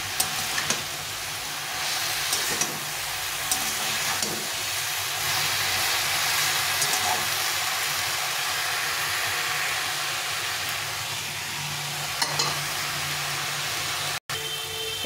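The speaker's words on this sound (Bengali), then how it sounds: "শাকটা দিয়ে একটু ভাজা ভাজা করে নিয়েছি" Pumpkin greens fry and steam in a pan with spices, a long steady sizzling hiss broken by occasional stirring clatters and a brief knock, close and without talking.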